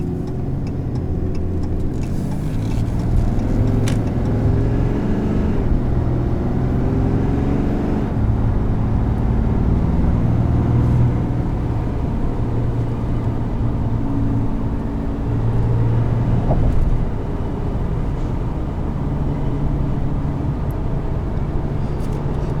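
A 2017 Ram 3500 Tradesman heavy-duty truck with the Cummins turbo diesel drives steadily, its low engine drone and road rumble continuous and fairly loud throughout, with slight shifts in pitch as it pulls.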